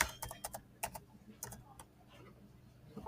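Computer keyboard being typed on in short bursts of crisp clicks, a handful of quick keystrokes clustered at the start and middle, fairly close and quiet, with no talking.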